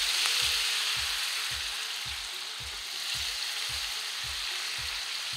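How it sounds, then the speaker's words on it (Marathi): Brinjal and potato pieces fry in a sizzling spice masala for an aloo vangyachi bhaji, with a bright, continuous hiss and a regular thumping rhythm of stirring beneath it, close and without speech. "मसाला छान फ्राय झाला की आपण त्यात आपले वांगे आणि बटाटे छान कापून घेतलेले आहेत, ते आपण यात टाकून घेऊ।"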